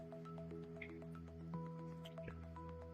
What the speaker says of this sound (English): the UV water from the 54 watt UV light is coming straight into this tank